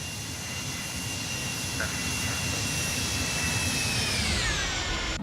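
Steady roar of an iniBuilds Airbus A300's jet engines climbing after takeoff in a flight simulator, a continuous loud whine with high tonal hums that shift slightly near the end.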